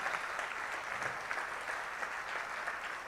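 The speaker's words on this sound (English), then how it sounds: "Give a big round of applause for all the engineers." Audience clapping for engineers at a public address, dense and steady applause from a large crowd, continuous throughout without voices standing out.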